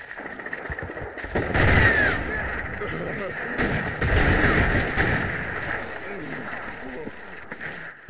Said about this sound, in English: Alerted by the shots